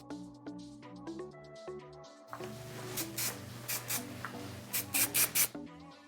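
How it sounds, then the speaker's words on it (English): A few short hissing bursts of Sunlight styling spray misted onto hair while finishing a style, loud and close, rising over steady background music. "you can take your Sunlight styling spray just to really finish it off"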